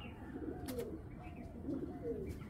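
Racing pigeons cooing softly at close range, a few low murmured coos spread across a couple of seconds over a faint room background, with no talk.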